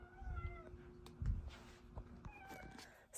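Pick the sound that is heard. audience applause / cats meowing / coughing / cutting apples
cats meowing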